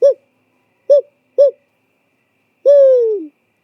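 A man imitates owl calls with his own voice in an Oregon old-growth forest, giving three short hoots followed by a longer descending hoot, close, clear and isolated against silence.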